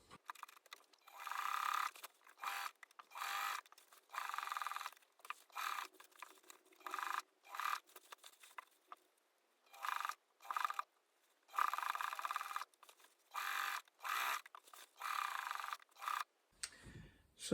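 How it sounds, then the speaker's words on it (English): A sewing machine runs around the seam of a pair of Regency-style breeches in short repeated bursts, each a second or so long, separated by brief silent gaps as the fabric is turned. "now we've got the pleasure of sewing all the way around the seam"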